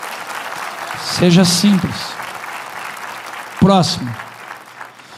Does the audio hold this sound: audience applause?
yes